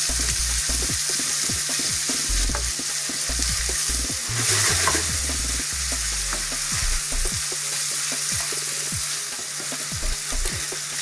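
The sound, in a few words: meat browning in a pan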